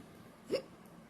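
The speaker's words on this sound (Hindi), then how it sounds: "हिचकी आ गई मुझे" One short, sharp human hiccup close to the microphone, standing out against quiet room tone.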